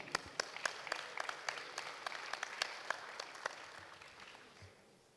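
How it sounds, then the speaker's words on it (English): Scattered audience applause at a conference hall after an interview session, individual sharp claps standing out from a soft wash of hands, fairly quiet and thinning out toward the end. "A round of applause for Stefan."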